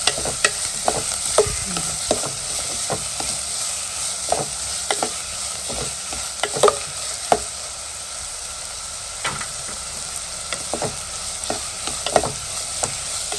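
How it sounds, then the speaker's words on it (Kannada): Onions frying in ghee in a pan for a palak chicken gravy, a constant sizzling hiss broken by repeated sharp clicks of a spoon stirring and scraping, close up with no talking. "ಎರಡು ನೀರುಳ್ಳಿ ಪಾಡ್ದು ಒಂದು ಚೂರು ಫ್ರೈ ಆವಡ ಗೋಲ್ಡನ್ ಕೆಂಪು ಕಲರ್ ಆವಡು"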